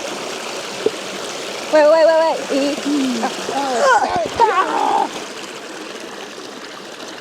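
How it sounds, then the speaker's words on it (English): A waterfall in Samoa pours down toward the ocean with a constant, close rushing hiss. A person speaks briefly and calls out over the steady flow of water. "I'm standing at the top of the waterfall"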